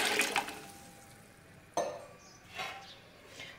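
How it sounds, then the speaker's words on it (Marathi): A pot of water is poured out in a home kitchen while making kurdai, giving a couple of short splashing gushes with a clink partway through, fairly faint and set apart by quiet gaps. "आणि एक्स्ट्रा 1 तांब्या पाणी घालते"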